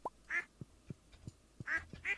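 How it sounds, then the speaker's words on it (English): Ducks in the video game Stardew Valley give short, clear quacks, about four spaced calls mixed with soft clicky game sounds, heard alone without talk. "Right, ducks, hello. You have some eggs for me"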